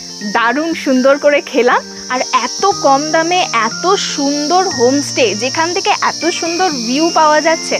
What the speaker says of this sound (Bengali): চারিদিকে শুনতেই পাচ্ছ পুরো ঝিঝি পোকার ডাক, কোনো নয়েস নেই